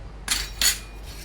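Metal puja vessels and utensils are lifted and set down, giving two bright clinking bursts close by in a quiet room, with no one talking.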